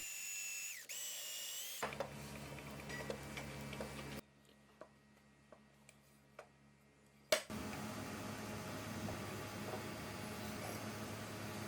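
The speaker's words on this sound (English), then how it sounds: "Using a self-centering bit, I drilled pilot holes for each of my screws" A drill with a self-centering bit bores pilot holes into maple for screws. It makes quiet steady motor whines in separate bursts with a few light clicks and short pauses between holes.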